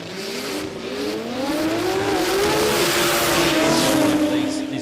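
Ford sports compact drag cars launch down the track at a 2024 Brisbane qualifying session, their engines holding a loud, steady roar that climbs in pitch as they accelerate over a constant wash of noise.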